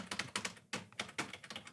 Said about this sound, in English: They put in the sound of a keyboard